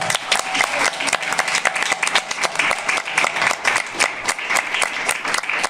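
Warm audience applause for the winner of a local short film festival showcase, a full room clapping loudly and continuously with crisp individual claps, no speech over it.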